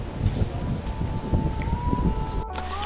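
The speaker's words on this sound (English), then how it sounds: "now it's incredibly windy" Strong gusty wind buffets the microphone in a continuous low rumble with a rustling wash on top, loud and close, cut off abruptly near the end.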